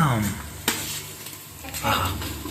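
Ginger and garlic sizzle in oil in a pan, with a steady frying hiss, a spoon scraping and stirring, and a voice speaking briefly over it.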